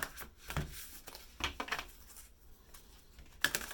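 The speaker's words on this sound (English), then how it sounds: "I do like to shuffle a little more on camera for some fresh energy." A tarot card deck is shuffled by hand, quiet sporadic riffles and snaps of cards with short bursts separated by pauses, close and soft in an otherwise quiet room.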